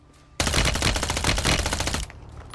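Rapid automatic gunfire in the game Warzone, a loud close burst of evenly spaced shots lasting about a second and a half, starting abruptly and cutting off sharply against quiet background.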